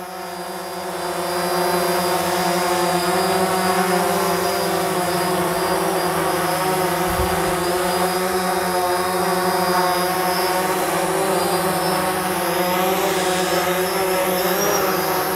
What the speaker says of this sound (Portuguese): é um drone teimoso